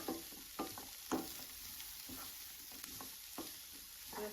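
Onions sauté in butter in a pan for paneer gravy, giving a steady close sizzle broken by soft scraping stirs of the spoon.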